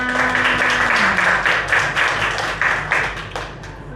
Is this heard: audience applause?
yes